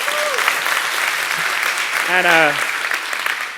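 A live audience claps to vote for a favorite joke, steady applause running throughout while a voice speaks briefly over it.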